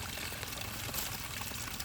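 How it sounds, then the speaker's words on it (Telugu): Rainwater drains out of flooded fields and pours down like a small waterfall, a steady faint rushing splash with no voices. "నీళ్ళు పోతా ఉన్నాయి"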